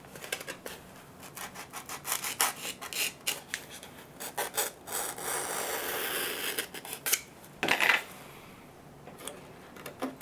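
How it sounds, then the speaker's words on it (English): Bevel being cut on the underside of a balsa stabilizer part for a model F4 Phantom, heard as close, uneven rasping and scraping strokes in short bursts, with one louder scrape near the end and no talk. "we're going to slide this off and we're going to cut a bevel on the underside"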